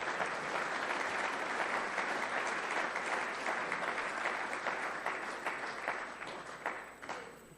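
An audience claps at an award announcement, with sustained applause from a crowd that stays strong and then tapers off gradually toward the end.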